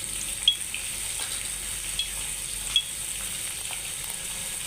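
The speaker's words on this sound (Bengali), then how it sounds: "আরেকটি তেল বসিয়ে পেঁয়াজ কুচি দিয়ে দিলাম" Chopped onions frying in hot oil in a pan, a steady soft sizzling hiss with a few sharp clicks of a utensil against the pan.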